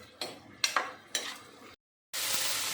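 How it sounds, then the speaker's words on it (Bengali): Chopped banana stem with turmeric and salt frying in a pan: several scraping stirs over a sizzle, a brief silent gap, then a steady loud hiss of frying up close. "এবার ভাজা ভাজা করব"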